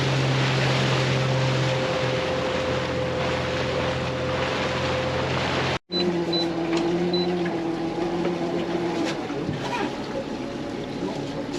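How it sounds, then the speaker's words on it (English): A motorboat engine drones steadily with wind and water noise around it on a river in the Kimberley, briefly cutting out midway before resuming with a higher hum. "Taking his time, Lancho manoeuvred the boat into position to give us the best possible chance"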